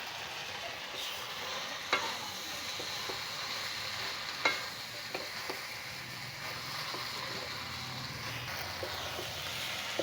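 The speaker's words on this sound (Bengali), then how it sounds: "তো সুন্দর ভাজা ভাজা করে নিলাম" Jackfruit seeds, vines and dried fish fry in a pan with a steady close sizzle, broken by a few sharp clinks of a utensil against the pan.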